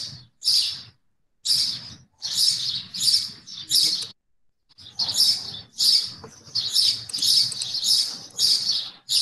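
Small birds sing outside in a lively run of bright, repeated chirping phrases separated by short pauses, loud and close with no talk.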